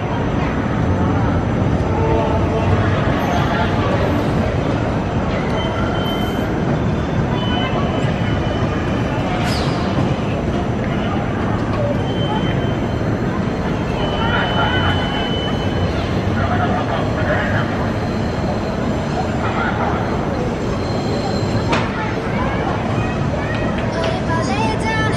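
Continuous rumble and rattle of an electric commuter train rolling along tracks at Jakarta Kota station, steady and loud, with faint squeals over the running noise.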